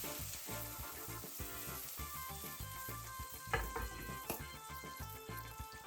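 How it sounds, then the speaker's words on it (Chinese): Cut scallion pieces hit a hot wok already holding stir-fried bell peppers for a sea bass dish, giving a steady, bright crackling sizzle with occasional stirring scrapes and spatters. "这时候就把葱段下进去"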